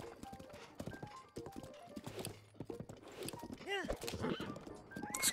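Horses clip-clop along a road in the video game The Legend of Zelda: Breath of the Wild, with steady hoofbeats and a whinny mixed with game music and effects, while a person talks over the scene.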